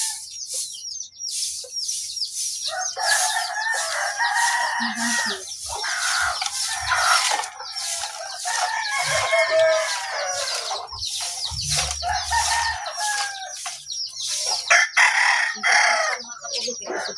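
Backyard chickens cluck busily at afternoon feeding time while a rooster crows loudly nearby, over a long stretch of steady, close flock noise with brief louder peaks.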